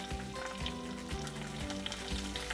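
Lentils and chillies fry in a pan with asafoetida, giving a dense, steady sizzle with faint periodic knocks throughout. No talking is heard.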